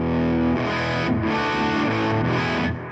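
Hotone Ampero amp modeler running a cacophonous, heavily distorted guitar patch with chorus-like effects, a dense continuous wash of sustained noisy guitar tone lasting the whole stretch with no talking.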